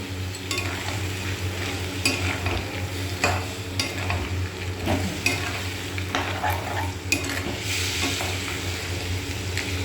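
Thick spiced gravy bubbling and sizzling in a pan after a splash of water is added, with irregular stirring scrapes and occasional utensil clinks against the pan over a steady close frying hiss, no speech.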